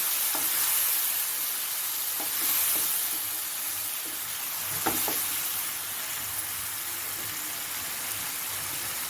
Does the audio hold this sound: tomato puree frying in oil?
yes